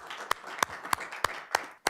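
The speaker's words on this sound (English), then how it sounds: "How about a round of applause?" Six sharp, evenly spaced claps sound about a third of a second apart, quiet and close. They are heard on their own, with no voices, at a Douglas County School District meeting.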